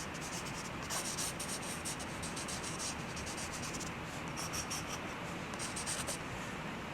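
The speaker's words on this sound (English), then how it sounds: "Got some scratchy textures here." Scratchy art strokes drag across paper to build textures in an abstract nature drawing, coming as close, rough bursts of rasping strokes separated by short pauses.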